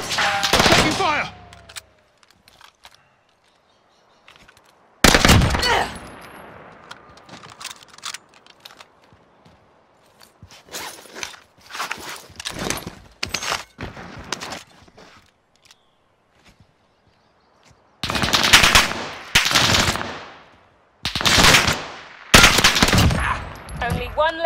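Bursts of automatic gunfire and scattered single shots from a Modern Warfare video game firefight, loud and close, with quieter gaps, footsteps and some voice chatter between volleys.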